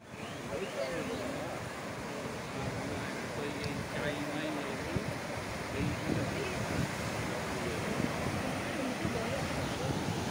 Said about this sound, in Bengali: বাট এরকম লেভেলের ঢেউ দেখিনি কোনোদিনও